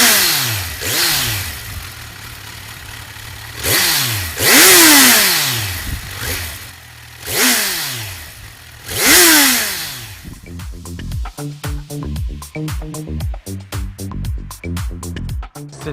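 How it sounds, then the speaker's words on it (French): A Kawasaki Z1000 roadster with new-generation exhaust revs hard in repeated rising and falling blips, throaty and powerful, followed by quick rapid-fire revs and a choppy, pulsing idle rhythm, close and loud. "Les échappements de nouvelle génération offrent un son rauque et puissant"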